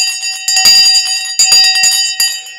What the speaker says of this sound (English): We're going to ring the bell right now